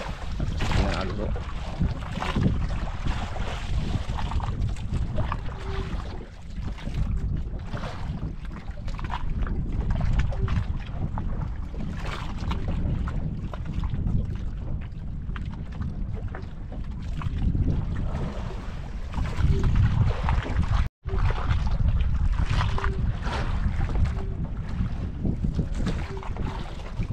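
A large wooden outrigger-style boat moves across open water in steady wind, with continuous broadband wind and water rush dominating throughout and brief faint voices buried underneath.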